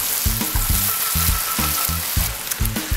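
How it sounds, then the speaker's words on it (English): Fried rice with peppers and onions sizzling loudly in a pan beside fried haddock and shrimp, a continuous close hiss broken by rhythmic scraping and tossing thumps, no talk. "all of my peppers and my onions to my rice. Now it's all cooking together."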